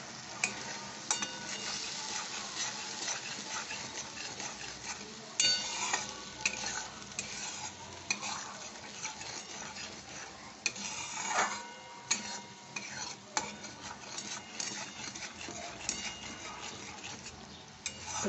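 Cashew-poppy paste for doi potol being sautéed and stirred over low heat in a pan, a steady soft sizzle with scraping spatula strokes and occasional clinks of utensil on pot, close and continuous with no talking.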